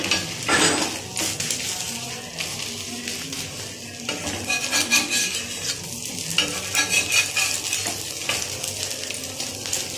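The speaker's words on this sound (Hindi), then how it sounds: "पराठा को लगा देंगे इस तरीके से। इसे धीमे आंच पे हम पकाएंगे।" A paratha cooks slowly on a pan over a low flame in an egg roll kitchen, with a steady soft sizzle and occasional scraping and clinking of a spatula against the pan; no talking.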